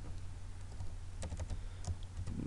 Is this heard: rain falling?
no